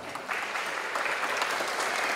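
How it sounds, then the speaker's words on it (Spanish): A short, steady burst of audience applause fills a conference hall at an international circular economy forum, moderately distant and even in level. "La recibimos con fuertes aplausos, por favor."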